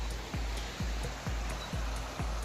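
River flowing beside a shady lunch spot on a Pacific Crest Trail thru-hike, a steady loud wash of water with faint repeating thumps, no talking.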